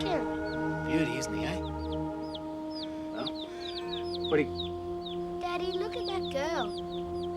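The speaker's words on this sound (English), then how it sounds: "What a chicken." A chicken clucks repeatedly in a lively outdoor setting, with a steady tonal hum running underneath and a few sharp bird calls scattered across the scene.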